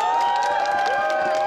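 A crowd at a baseball fan event between Nexen and Lotte cheers and claps loudly and continuously for player number one, with sustained voices ringing over the noise.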